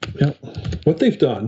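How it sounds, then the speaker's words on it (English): Computer keyboard typing clicks along quietly in the background while someone talks steadily over it. "Sorry for the typing noise in the background."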